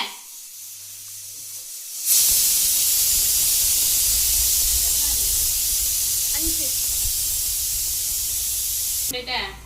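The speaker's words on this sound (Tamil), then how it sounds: "அரிசி கழுவி எடுத்துணும். நல்ல 3 முறை 4 முறை கழுவும்." Rice being washed in water at home, with a loud, steady rush of running water hissing for about seven seconds after a quiet start, cutting off abruptly near the end.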